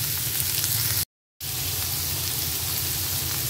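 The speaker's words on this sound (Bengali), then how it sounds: "আলু আর পেঁপেটা দিয়ে কিছুক্ষণ আমি এটাকে ভেজে নেব।" Potato and raw papaya frying in a pan give off a dense, even sizzle that stops abruptly for a moment of silence and then resumes just as loudly; no speech.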